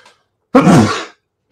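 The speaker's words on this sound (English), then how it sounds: "that was a cerveza sneeze and a half" A single loud, close sneeze bursts out after a brief faint breath, ending in a sharp broadband blast that trails off into silence.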